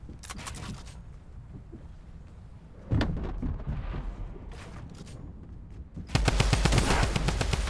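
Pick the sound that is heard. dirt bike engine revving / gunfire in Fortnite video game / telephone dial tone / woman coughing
gunfire in Fortnite video game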